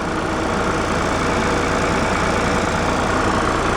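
A Ford 3910 three-cylinder tractor engine idles steadily and close by, a continuous rough low rumble with a faint knock and no talking.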